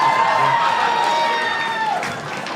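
Comedy club audience cheering and clapping during a stand-up set, a short, lively burst of crowd noise with whoops that gradually tapers off.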